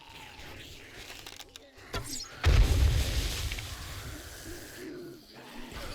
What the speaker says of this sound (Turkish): Orada bomba patladı ya.